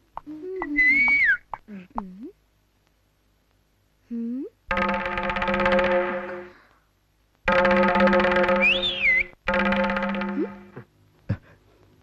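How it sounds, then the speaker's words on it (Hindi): An old man whistling in short bursts in a dubbed Hindi film scene: a few sliding whistled notes first, then longer rich tones that break off, with gaps of silence between and no talk. "बुढ़ा सीटी बजा रहा यही देख रही हो ना?"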